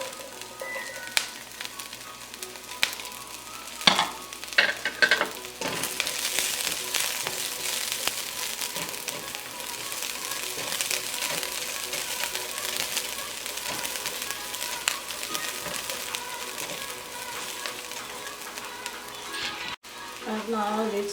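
Garlic sizzles and fries in a pan for a squash red curry, a constant crackling hiss with occasional stirring clatter, close by and fairly quiet.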